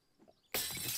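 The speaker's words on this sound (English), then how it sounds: "Oh, there was some glass there." Glass smashes in the survival zombie game 7 Days To Die, set off by a sledgehammer swing. A single sudden, bright shattering crash follows a few faint thuds and sustains loudly to the end.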